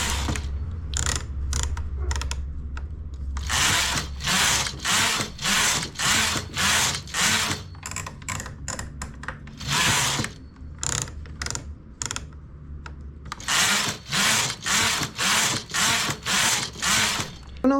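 A knitting machine works rows of stitches, its carriage clattering in fast, regular bursts of sharp mechanical ratcheting clicks, with short pauses between passes. The sound is loud and close, with no voices.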